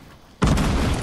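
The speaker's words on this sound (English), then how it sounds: "Oh, they're throwing bombs." A bomb explodes in a Fortnite squad match, one sudden loud close boom after a brief quiet moment, followed by a rumbling roar that sustains for the rest of the clip.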